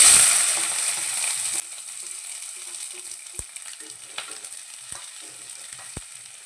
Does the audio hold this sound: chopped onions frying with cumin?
yes